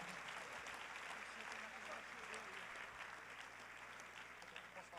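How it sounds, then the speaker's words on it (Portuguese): Church congregation applauding the Lord, a steady, dense wash of clapping that stays even and fairly distant throughout, with voices mixed in underneath. "E aplauda ao Senhor."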